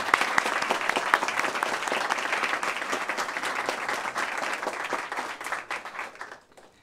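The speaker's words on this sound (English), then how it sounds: "So let's give them a round of applause as well." An audience at a pitch competition event breaks into sustained applause, dense clapping that holds for several seconds and then tapers off quickly at the end.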